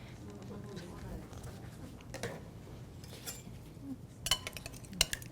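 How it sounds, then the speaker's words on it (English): A spoon stirs a small amount of cinnamon into fruit salad in a bowl, mostly soft and quiet, with a few brief, sharp clinks against the bowl toward the end over a low background murmur. "So make sure and mix that in real good."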